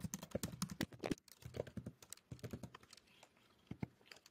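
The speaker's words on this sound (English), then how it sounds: "You're going to type expected underscore output." Rapid clicking of keys on a computer keyboard, close and fairly quiet, in uneven bursts with brief pauses between keystrokes and no talking.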